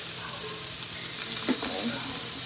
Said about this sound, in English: sauteed vegetables. That will be going right on the side of your dish of pork chop. And let them just keep cooking up.